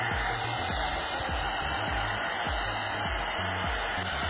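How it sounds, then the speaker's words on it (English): A blow brush hair dryer styling hair gives a steady, close, loud whirring airflow with a regular low pulsing throbbing underneath throughout. "then I'll be going with the blow brush and I'm just going to flip it inwards"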